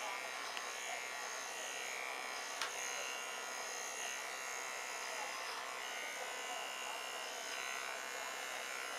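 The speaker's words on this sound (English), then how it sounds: "But it doesn't hurt them to shave them." Electric clippers shaving a young goat kid for disbudding, a steady continuous buzz held at even loudness throughout with faint background noise and a couple of brief clicks.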